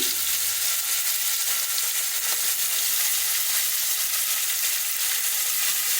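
Fenugreek leaves and chopped green capsicum fried in oil inside a pressure cooker, producing a loud, steady, close hissing sizzle that holds unbroken with no voices.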